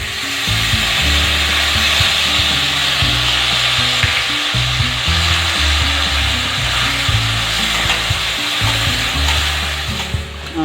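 Spice paste of ginger and turmeric with sugar and a splash of water frying in a pan: loud, constant sizzling over repeated low scraping and rubbing of a spatula, with no talk.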